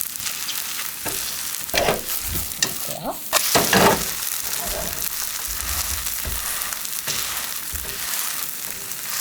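Aged pumpkin pancake frying in oil in a pan, a continuous crackling sizzle close up with a few scraping and pressing knocks partway through.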